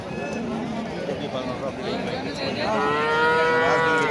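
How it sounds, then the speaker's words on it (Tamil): Native cattle moo loudly at a busy livestock market, long drawn-out lowing rising near the end above crowd chatter and people talking. "அங்கே ஒருத்தர் நாட்டு மாடு வச்சுருக்காங்க"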